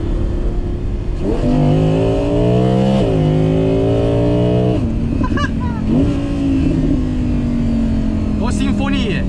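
An Audi R8 V10 Performance quattro Spyder's engine revs up and down in rising, falling sweeps, loud and close, with a voice talking over it at times.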